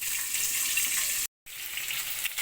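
A rohu fish head frying in hot oil in a wok, giving a loud, continuous close sizzle with a brief cut to silence midway before the hiss resumes.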